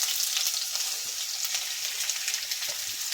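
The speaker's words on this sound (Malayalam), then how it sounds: "അതിലേക്ക് തന്നെയാണ് നമ്മൾ ഈ സബോളയും പച്ചമുളകും കൂടെ ആദ്യം ഇട്ട് കൊടുക്കാം" Sliced onions and green chillies fry in leftover sausage oil, a steady close sizzle and crackle with a few faint stirring knocks, no voices.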